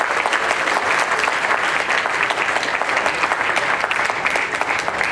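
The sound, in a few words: audience applause at a temple event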